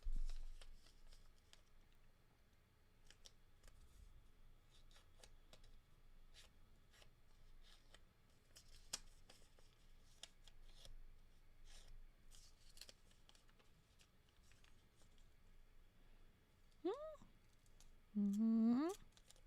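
Paper being torn and handled, heard as steady soft crinkling and rustling with scattered sharp tearing ticks throughout, close and fairly quiet, ending with a louder burst of handling.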